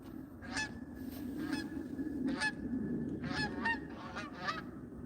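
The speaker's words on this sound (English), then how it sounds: "Here comes a bunch of geese if you guys are interested." A flock of geese passes overhead, honking repeatedly in irregular bursts that overlap toward the end, moderately distant over a low background rumble.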